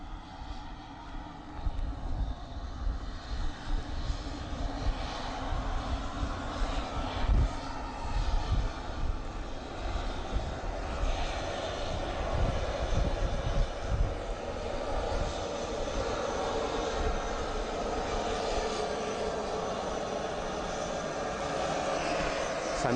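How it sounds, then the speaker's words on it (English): An EasyJet Airbus A320 airliner on approach to Southend Airport a couple of miles out under grey overcast skies, its engines a steady distant rumbling roar that holds and swells gently throughout, with no voices. "EasyJet A320, a couple of miles out now."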